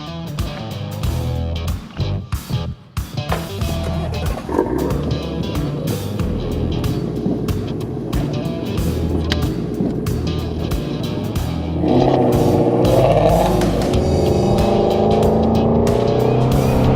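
A 2017 Ford Mustang Shelby GT350 roars loudly and continuously nearby, its engine drone rising and growling steadily with no voices.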